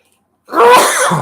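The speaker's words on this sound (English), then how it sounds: "Sorry, guys, I had to sneeze." A single loud, close sneeze bursts out after a moment of silence, a sharp breathy blast trailing into a brief rough exhale.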